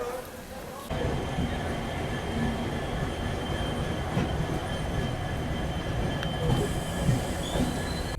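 The New Delhi–Dibrugarh Rajdhani Express pulls out of a station, with a continuous loud rumble of railcars, wheel noise and clatter heard close from on board, steady throughout.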